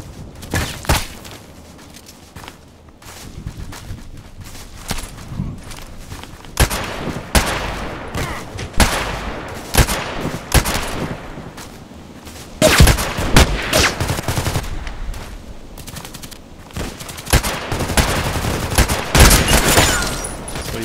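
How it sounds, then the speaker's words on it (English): Gunfire from a TKPD sniper carbine in the shooter game Contract Wars, with loud, sharp shots cracking repeatedly and irregularly over about twenty seconds amid other battle noise and no talking. "So I shot through the wall."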